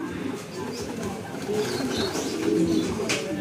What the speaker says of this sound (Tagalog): Yan, doon dumiretso, dalawang kalapate